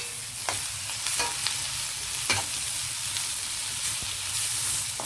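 Vegetables including capsicum and tomato fry in a hot pan for an egg roll, a steady close sizzle broken by several sharp clacks of stirring.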